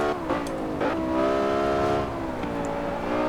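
A BMW M5 in Forza Horizon 4 screams up to high revs, its engine note climbing in pitch. Quick gearshifts briefly break the sustained, loud, close whine, and there is no talk.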